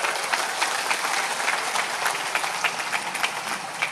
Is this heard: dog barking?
no